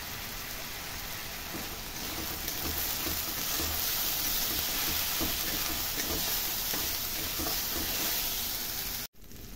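Spice paste frying in oil for Bengali-style soyabean kofta, a dense, hissing sizzle close by that swells in strength and holds steady, with a brief cut near the end.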